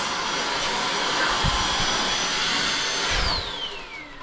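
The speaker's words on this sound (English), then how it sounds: "I'm gonna do just a little bit of sanding." A power sander runs steadily during a DIY bathroom makeover, a loud, continuous broadband whir that holds for about three seconds and then eases off slightly near the end.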